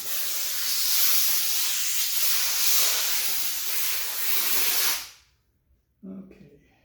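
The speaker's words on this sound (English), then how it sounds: "This compressor makes a little bit of a noise" Air hisses loudly and steadily from a compressor line into a tire on a 1977 MGB wire wheel, cutting off abruptly, then a short low thump or brief voice follows.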